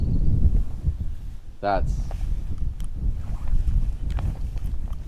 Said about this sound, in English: hopefully the wind noise isn't too terrible up here